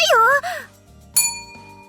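A voice with a gliding pitch speaks briefly. Then a single bright bell ding, a sound effect added to a visual novel game playthrough, strikes sharply and rings out under a low hum.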